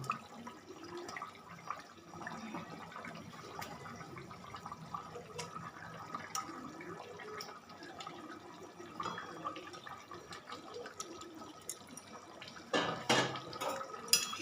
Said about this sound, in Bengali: দেখুন এখানে আমার ঝোলটা ফুটে গেছে